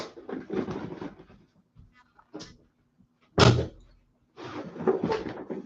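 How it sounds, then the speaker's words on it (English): A door shut nearby with a single solid thud midway, framed by someone talking before and after it. "Just closing the door."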